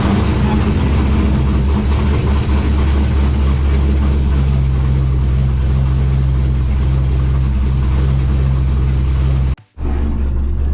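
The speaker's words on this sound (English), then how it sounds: "and then I started the car" A C5 Corvette engine, freshly reassembled after intake removal, runs with a loud, steady low rumble and idle that continues throughout before cutting off abruptly near the end.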